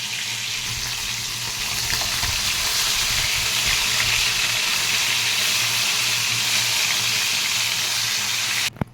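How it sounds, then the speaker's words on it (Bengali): Chicken pieces fry in a pan, a steady loud broadband sizzle that holds evenly throughout with no voices, ending in a brief clatter. "চিকেনটাকেও আমি ভেজে নিচ্ছি"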